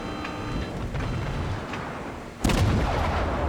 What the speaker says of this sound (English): So I quickly snap off the broadside at the Baltimore